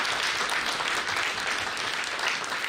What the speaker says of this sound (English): Professor Vartika, a big round of applause, please.